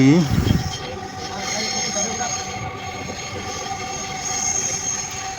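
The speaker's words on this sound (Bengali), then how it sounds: "ছেড়ে দিল আমাদের মেট্রো ট্রেন তিরিশ সেকেন্ডেরও কম সময়ে এটা প্রচণ্ড গতি অর্জন করলো" A crowded metro train racing at high speed makes a steady rumbling roar with whining and droning tones from inside the carriage, and a brief voice is heard at the start.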